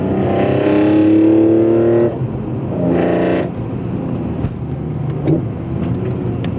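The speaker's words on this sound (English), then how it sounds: "you hear that induction noise" A BMW S54 inline-six engine with velocity stacks in an E46 M3 revs with a rising intake howl, then drops and revs again before settling into a lower, rougher drone.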